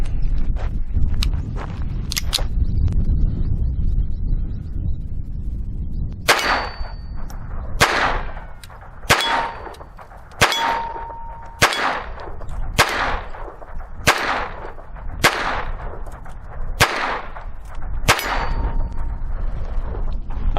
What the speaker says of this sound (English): All right, let's try the 3-inch. Now this is CCI ammo,